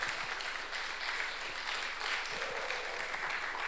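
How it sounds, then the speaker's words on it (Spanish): Congregation applauding loudly during a Spanish-language church service, a dense, steady wash of many hands clapping throughout the few seconds, close and sustained. "Dale un fuerte aplauso al Señor"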